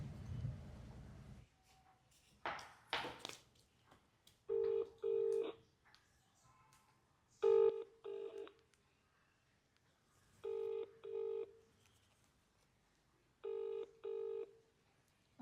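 A phone call placed on a mobile handset: a short burst of keypad dialing tones, then four evenly spaced pairs of ringback tones repeating clearly and close, with no one speaking.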